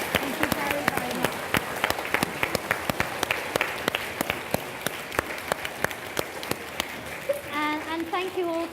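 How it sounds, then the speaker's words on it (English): An audience at a children's reading and writing event claps for author Francesca Simon, a dense run of sharp overlapping claps that thins out before a voice starts talking near the end. "I think we should give Francesca Simon a really big round of applause"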